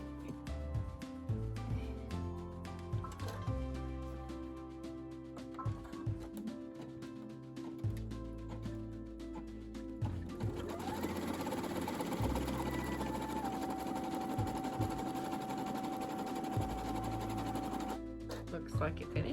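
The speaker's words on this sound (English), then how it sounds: "now it's going to do the satin stitch part of it" An embroidery sewing machine sews a satin stitch on baby blocks made from fabric scraps. It runs steadily and rapidly the whole time, with a rattling, ticking whir, while people talk quietly over it.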